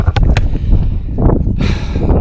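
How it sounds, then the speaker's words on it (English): Loud, gusty outdoor wind buffeting the microphone, a constant low rumble with bursts of hiss and crackle throughout. "sorry about the wind"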